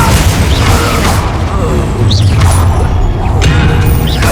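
Confringo and Expelliarmus spell blasts going off in the Hogwarts Legacy video game, a dense run of booming thumps and crashes over continuous loud battle noise, with no clean gaps between hits.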